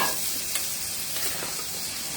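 Potatoes tipped into a hot pan of sautéed spices for an egg and potato curry, setting off a steady close sizzle with a few soft scrapes and clinks as they are stirred.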